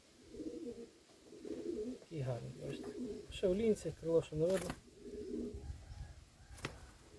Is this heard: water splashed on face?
no